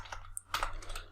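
A short burst of clicky keystrokes on a computer keyboard, a few quick taps close by with a small gap between them, over a faint background hum.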